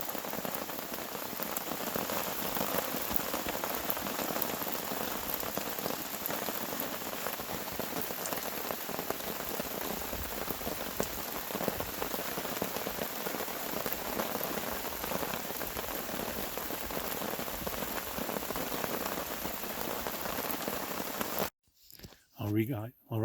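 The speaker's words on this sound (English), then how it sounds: "but it's pouring rain." Heavy rain pours steadily onto a tent at a backcountry campsite in Killarney Provincial Park, a dense unbroken patter for about twenty seconds before it cuts away abruptly to a few brief muffled sounds.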